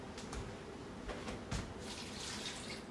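About three quarters of a cup of water is poured into a pan for rendering pork fat into torresmos, a soft splashing trickle that swells and fades in a few brief pulses, fairly quiet, with no talking.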